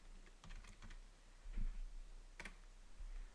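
Quick, light key presses on a computer keyboard as a name is entered for a game's high score, faint and close, in short irregular bursts.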